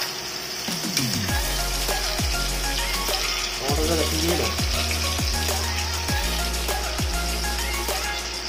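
Onion and garlic frying in oil, a loud, busy sizzle with repeated sweeping scrapes of stirring across the pan, and a voice talking now and then under the crackle.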